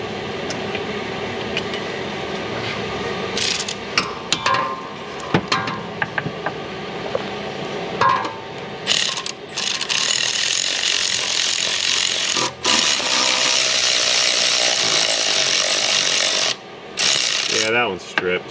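A ratchet running a bolt down on a 2008 Jaguar XJ 4.2, rapid pawl clicking in long runs broken by brief pauses, close and loud over a busy workshop background.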